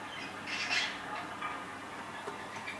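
Faint, scratchy squawks and chirps from a budgie in its cage, a few short bursts over a quiet room background.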